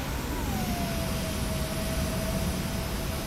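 A Wizz Air jet arriving in a Boeing 737-800 flight simulator with live air traffic, heard as a steady broadband jet engine roar with a faint whine gliding gradually downward, continuous and fairly loud throughout.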